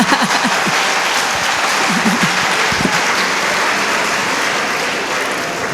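Sustained audience applause in a church or seminar hall during a talk on patience between married couples, a dense even wash of clapping that holds steady throughout, with a few faint voices mixed in beneath it.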